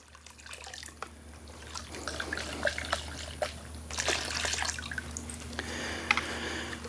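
Liquid from a 15-ounce measure poured into a 5-gallon bucket of water in a garden, a steady trickling splash with small drips, fairly faint against background noise.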